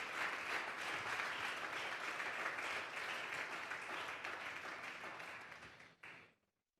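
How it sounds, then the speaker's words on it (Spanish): A church congregation at a Sunday service gives a strong round of applause, a steady, fairly distant wash of clapping that holds for several seconds and then quickly dies away. "Vamos a darle un fuerte aplauso pues al Señor esta tarde."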